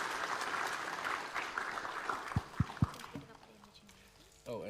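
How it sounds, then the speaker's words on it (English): An audience applauds at a university careers office session on job seeking skills; the clapping is dense at first and then thins out, with a few sharp thumps and some talk in the background. "could we just give a round of applause for Ms."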